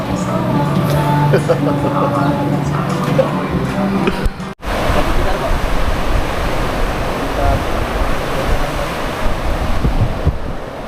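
Seaside waves heard as a steady, loud roar of surf with broadband wind-like rush throughout, briefly dropping out once midway.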